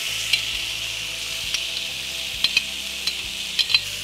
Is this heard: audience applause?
no